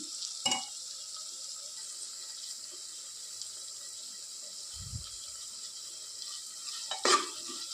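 Onions with turmeric powder cook in a pan for vangi bath, a quiet, steady high sizzle broken by a couple of short stirring scrapes near the start and end.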